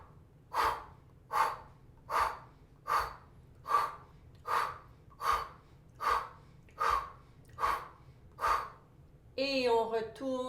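Deep abdominal breathing in a qigong exercise, eleven even breaths in a steady rhythm, each a close, breathy rush, ending with a brief voice.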